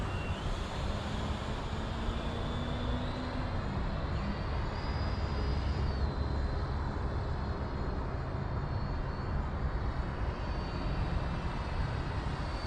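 A Freewing T-45 Goshawk 90mm RC jet whines overhead, its turbine-like pitch rising and shifting as it passes, with steady background rush.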